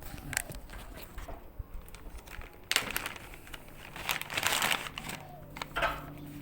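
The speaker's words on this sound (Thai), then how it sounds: "เนี่ยผมก็ฉีกถุงพลาสติกนะครับ" Someone tears and crumples a plastic bag close by, with irregular crinkling rustles and sharper ripping bursts, some loud and some soft, and no talking over them.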